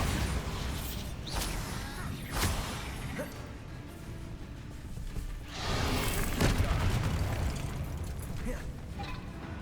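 Explosive Bombarda spell blasts in Hogwarts Legacy, a few loud booming bursts spaced through dense combat noise with sharp transients around the start and a heavier blast midway.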